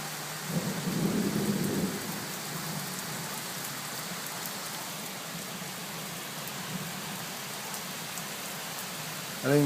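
Torrential rain pouring steadily in a thunderstorm, a constant hissing wash with a low rumble of thunder early on and a brief louder burst near the end, fairly quiet overall.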